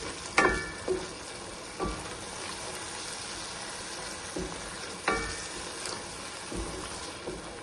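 Ginger garlic paste fries in a pan with a soft, steady sizzle, punctuated by several sharp stirring scrapes and clinks spaced a second or more apart.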